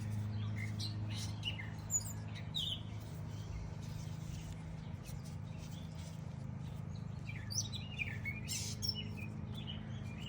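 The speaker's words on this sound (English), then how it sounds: "It's my little catbird." A catbird sings up in a tree outdoors, with scattered faint, high chirps and short phrases over a steady low hum of background noise.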